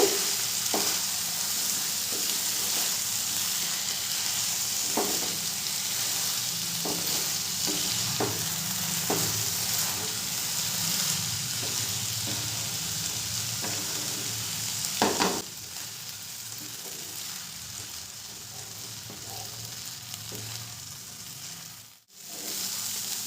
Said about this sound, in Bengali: চাল আর ডালটাকে মশলার সাথে খুব ভালো করে আমি কষিয়ে নেব